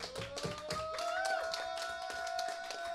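Scattered hand claps from a small audience at a live music venue, uneven and fairly quiet, under a sustained ringing tone.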